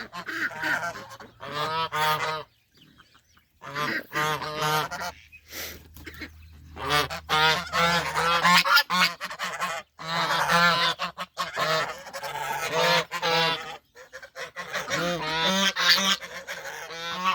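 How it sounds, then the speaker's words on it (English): A mother duck honks loudly and repeatedly in rapid harsh bursts, close by, with short pauses between calls and a low rumble underneath at times, near abandoned eggs. "There's another duck, another mama duck."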